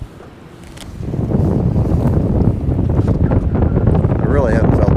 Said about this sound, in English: There's a little bit of wind up here.